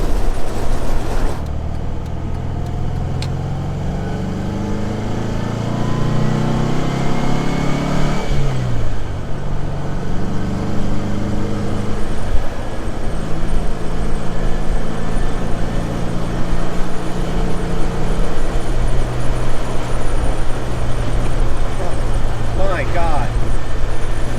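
A lightweight Porsche 356, about 1,800 pounds, drives along a road with a steady engine drone and wind and road noise as it accelerates and shifts, heard from inside the car.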